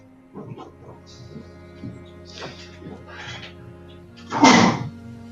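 A single loud, sharp sneeze bursts out near the end, following a stretch of quiet speech indoors.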